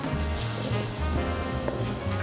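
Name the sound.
slice of meat sizzling while grilled over binchotan charcoal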